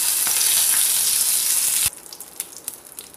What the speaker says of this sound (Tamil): கருவேப்பிலை போட்டு கொஞ்சம் அந்த சவுண்டெல்லாம் அடங்கினதும்